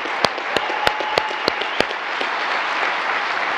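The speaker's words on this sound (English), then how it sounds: "Huge applause." A crowd applauding steadily, with a few sharp, loud nearby claps standing out at a regular beat early on before blending into the general clapping.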